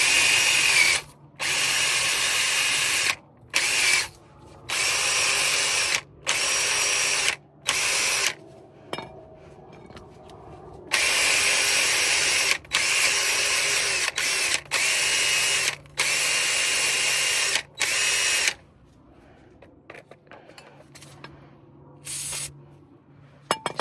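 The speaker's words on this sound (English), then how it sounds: "Get our wire wheel attached to the impact and clean this." A wire wheel on an impact tool cleaning a Mercedes-Benz CLA brake part, loud high-pitched whirring bursts repeatedly starting and stopping with brief gaps, ending in quieter pauses and a final short burst.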